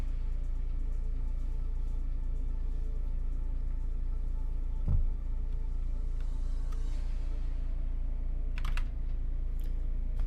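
Typing on a cheap, roughly $30 computer keyboard, soft and steady against a constant low hum, with a few sharper clacks near the end.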